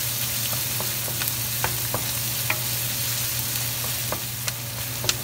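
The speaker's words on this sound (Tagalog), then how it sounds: "At atin lamang pong hintayin pong maluto itong ating sibuyas at bawang." Onion and garlic fry in a pan for chicken afritada, a steady soft sizzle with occasional light crackles and pops, fairly quiet and close.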